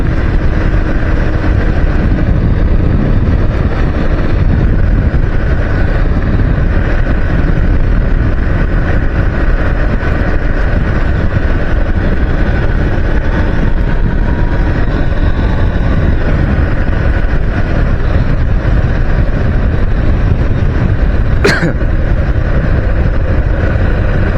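Bajaj Dominar 400 motorcycle on a long ride in West Bengal, a steady loud roar of engine and wind buffeting the microphone throughout, with one brief sharp click near the end.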